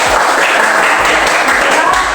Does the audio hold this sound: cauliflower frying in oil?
no